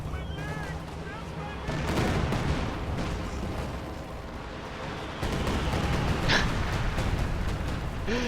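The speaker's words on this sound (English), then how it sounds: "And a Katyusha barrage." Katyusha rocket artillery barrage in a World War II strategy video game, a dense rumbling wash of distant launches and impacts with sharper cracks, under a commentator's voice.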